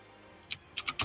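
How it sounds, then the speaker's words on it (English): Keys on a computer keyboard tap four times in a short, uneven burst, caught faintly by a nearby microphone against a quiet background. "stream starts with typing Enrico's mic"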